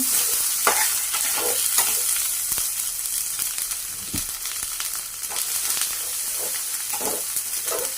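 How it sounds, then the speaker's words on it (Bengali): A steady sizzle of ginger-garlic paste frying in a new pan, with scraping stirs and soft clinks of a spatula throughout, no talking. "আদা রসুনটা একটু ভালো মতো ভাজা নিব।"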